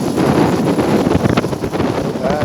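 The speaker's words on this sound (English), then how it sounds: "You can hear the wind blowing." Strong wind rushes and buffets the microphone while riding at speed around a Paris park, a loud steady roar with gusty fluctuations throughout.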